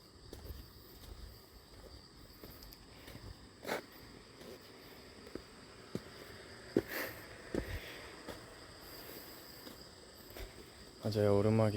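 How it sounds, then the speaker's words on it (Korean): Crickets chirp steadily in a park at night during a walk, a thin, continuous trill with scattered footsteps and a few brief knocks, then a louder low rumble at the end. "귀뚜라미 소리 잘 들리죠?"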